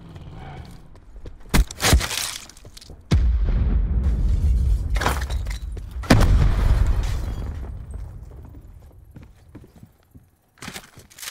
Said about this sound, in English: I just killed that guy with the rocket?